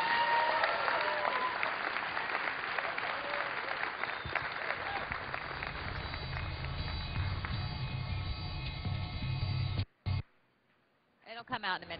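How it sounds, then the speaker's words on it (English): Applause from an audience at the close of a World of Warcraft Cataclysm cinematics panel at BlizzCon 2010, a dense steady ovation lasting about ten seconds with crowd noise mixed in, then cutting off abruptly. "Let's have a round of applause for our panelists."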